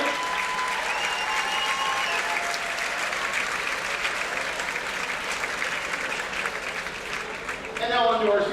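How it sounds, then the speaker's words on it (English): A crowd claps loudly and continuously for cheerleaders at a boys JV high school basketball game in a gym, with voices mixed into the sustained applause. "Let's have a round of applause for our cheerleaders, ladies and gentlemen"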